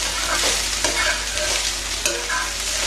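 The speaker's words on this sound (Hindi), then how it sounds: "अब इसे हम फटाफट से हाई फ्लेम पे ही हम इसे भूनेंगे 5 से 7 मिनट तक" Leftover rice is stir-fried on a high flame, a loud close sizzle with repeated scraping strokes of a spatula against the pan.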